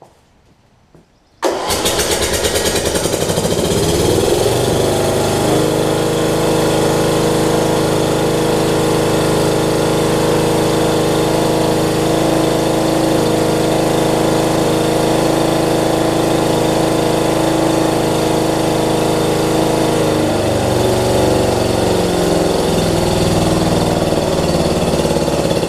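A Murray riding mower engine catches after a quiet moment and then runs steadily and loudly up close, a continuous droning idle with no voices over it.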